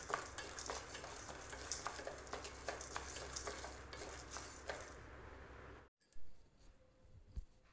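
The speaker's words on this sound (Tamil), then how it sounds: "கடலைப்பருப்பும் நல்லா சிவந்தெடுத்து" Chana dal roasting in a pan while being stirred for curry leaf podi, a steady dry sizzle with scraping spoon strokes that stops abruptly near the end, leaving faint quiet handling.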